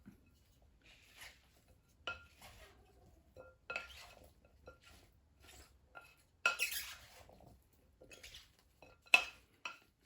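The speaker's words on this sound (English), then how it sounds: "we mix the green onions, the spring onions, and the red onions with our cucumber" Cucumber being tossed with green onions, spring onions and red onions in a bowl, giving soft scattered clinks and scraping knocks at an irregular pace, fairly quiet and close, with no talking.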